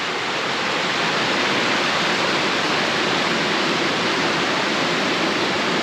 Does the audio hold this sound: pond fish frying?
no